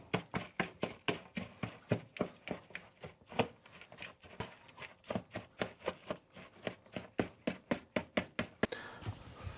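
Meal prep ingredients mixed together in a bowl, a steady run of rhythmic knocks and thumps from a utensil striking the bowl, close and fairly quiet, with no voices.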